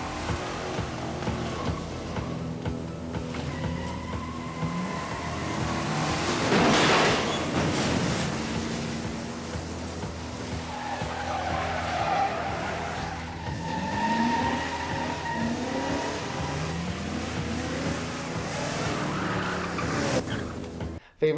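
The killer car Christine from John Carpenter's horror film snarls with a dense, growling engine roar while tires squeal and skid, loud and sustained throughout, with a sharp burst of screeching near the middle.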